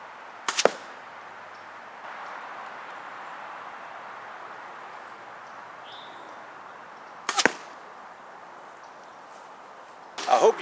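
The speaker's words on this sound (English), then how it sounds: "I hope you got a sound on those arrows." Arrows with broadheads shot from a bow outdoors, three sharp snapping releases spread several seconds apart, each brief and crisp against a quiet airy background with faint hiss between shots.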